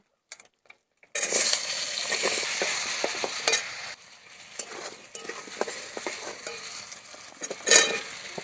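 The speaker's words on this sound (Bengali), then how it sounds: "আলু কুমড়ো একসাথে আমি ভালো করে ভেজে নেব।" Potatoes and pumpkin frying together in a pan, a steady close sizzle with stirring scrapes and occasional clinks of a utensil after a brief quiet start.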